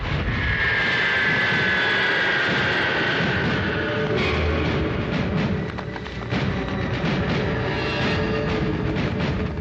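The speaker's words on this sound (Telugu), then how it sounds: "అది పైన వెళుతున్న ఫ్లైట్ కాదు, ఒకటి టేక్ ఆఫ్ ఫ్లైట్ లేదా ల్యాండింగ్ ఫ్లైట్" A loud, steady jet roar rumbles throughout, a low-flying airplane taking off or landing passing close overhead with a rising whine and no voices.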